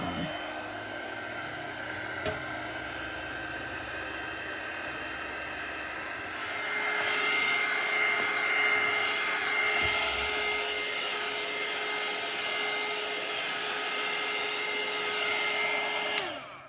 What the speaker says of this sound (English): I'm going to start up my little heat tool right now and try to do that.